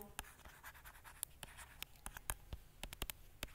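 Pen or marker writing by hand on a board or paper during an electric circuits lesson, a quiet series of short scratchy strokes in quick irregular bursts, with no talking.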